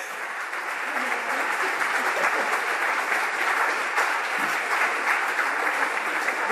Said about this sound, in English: if you could all give a round of applause for our wonderful cast